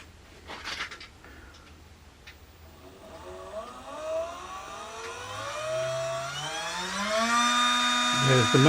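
An electric motor on a rose engine lathe spins up, its whine rising steadily in pitch and growing louder over several seconds, alone and close.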